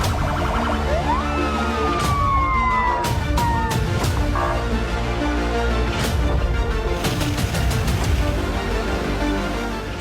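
A fire and rescue vehicle enters a military unit's grounds under escort during a training drill, its siren wailing in long sweeps alongside sharp clanks and bangs, steady and fairly loud with no clear speech.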